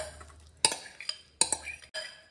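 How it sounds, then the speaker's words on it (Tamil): Soaked dried fruits for an eggless jaggery plum cake being mixed in a bowl: a few sharp spoon clinks and scrapes against the dish, spaced irregularly, close and fairly quiet. "இந்த ஊறி இருக்கிறதெல்லாம் நல்லா மிக்ஸ் பண்ணி விட்டு இதில் சேர்த்துக்கலாம்."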